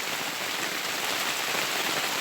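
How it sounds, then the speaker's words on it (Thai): Steady rain pours down outdoors in a dense, even hiss that fills the whole moment, loud and unbroken, with no voices. "โอ้ฝนตกเปะหมดเลย"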